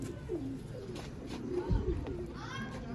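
Soft, low cooing calls from Sialkoti pigeons repeat through the clip, mixed with a quiet voice and background chatter nearby.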